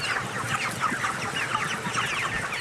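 Dense chorus of chickens clucking continuously inside a crowded chicken farm shed in Anseong, Gyeonggi-do, many birds overlapping at a steady moderate level with no talk.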